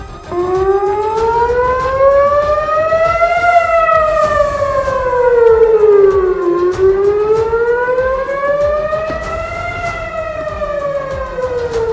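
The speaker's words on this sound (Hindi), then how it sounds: "तभी शहर में लोगों को आगाह करने के लिए हमले के सायरन बजने शुरू हो गए" Air raid warning siren sounding across the city of Ashkelon during rocket attacks, a loud wailing tone that rises and falls in slow repeating cycles, with no talking.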